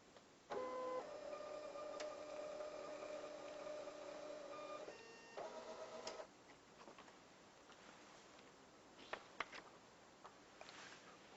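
A printer runs near and clear printing vote results, a steady mechanical whir with ticking for about five seconds, a brief pause, another short burst, then faint clicks in a quiet room.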